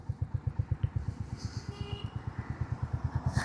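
A cruiser motorcycle being ridden, its engine giving a steady, evenly pulsing low thump, close and moderately loud throughout with no talk.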